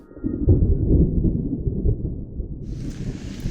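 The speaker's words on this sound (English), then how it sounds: "There's a massive storm approaching" Thunder rumbles from an approaching storm in Chobe National Park, Botswana, heavy and low for most of the stretch, then easing, with wind buffeting the microphone outdoors.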